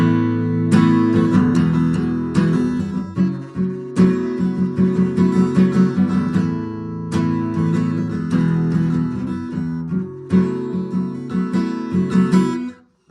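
Guitar chords strummed repeatedly with the high strings ringing out, loud and close, in a steady rhythmic pattern of bright sustained strums over about thirteen seconds with no talking.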